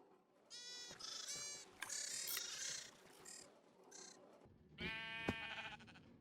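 Sheep bleat repeatedly in a Minecraft wool farm, several overlapping game-sound bleats in bursts with short pauses between, clear and fairly close, with no talking.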